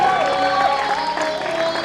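An audience at an editors' stage event applauds as a newspaper editor is welcomed, a brief burst of clapping mixed with crowd voices.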